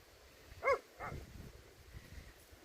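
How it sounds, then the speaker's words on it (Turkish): A livestock guardian shepherd dog gives a short yelping bark, followed by a few fainter barks and whimpers over quiet background noise. "çoban köpekleri geldi"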